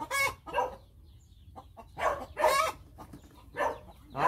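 Hens in a laying coop cluck in short, separate bursts with quiet gaps between them, close and fairly clear.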